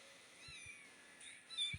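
A cat meows in a video game, giving short, faint, high-pitched calls layered over quiet background game sounds.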